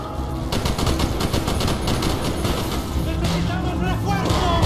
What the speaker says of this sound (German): Los, ballern wir das Ding ab